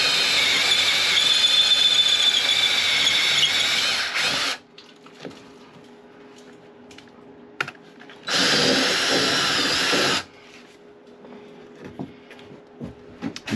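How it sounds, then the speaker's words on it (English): A close-quarter drill drives Irwin nail bits during a tiny house remodel, giving two loud, whining bursts of several seconds each, separated by a quiet pause with faint clicks and handling noises. "These close quarter drills come in really handy, as do these Irwin bits that are made for nails."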